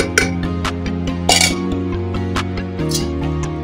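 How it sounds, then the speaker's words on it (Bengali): Soaked dried peas tumble into a pressure cooker with potatoes, giving a series of light metallic clinks and rattles over a steady background hum, close and clear. "আর দিয়ে দিলাম কড়াইগুলো।"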